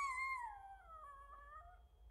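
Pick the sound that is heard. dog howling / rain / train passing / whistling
dog howling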